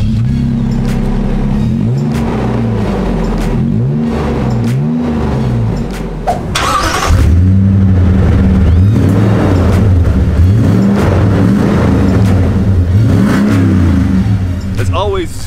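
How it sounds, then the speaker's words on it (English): Toyota TRD Pro trucks, a 2020 Sequoia and 4Runner fitted with TRD exhausts, rev repeatedly in rising and falling bursts, loud and close, with a deeper, fuller stretch of revving in the second half. "they both now come with the TRD exhaust. And these two trucks do sound really cool."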